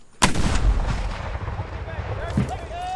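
A Revolutionary War cannon fires at a reenactment with one loud, sharp boom up close, followed by a long rolling rumble and faint echoes.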